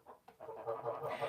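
Red cap chickens clucking close by, a few short soft clucks and murmurs in quick succession, fairly quiet.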